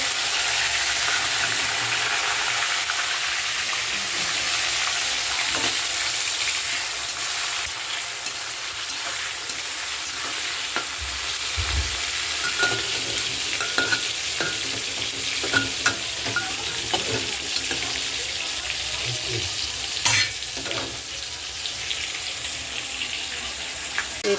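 Onion and tomato fry with meat for biryani in a pot, giving a continuous broad sizzle with scattered crackles and occasional stirring clicks over a long stretch, loud and close.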